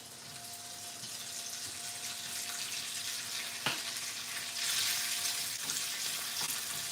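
Food sizzles steadily in a hot pan during home cooking, a continuous loud frying hiss with a few sharp clicks and crackles, no voices.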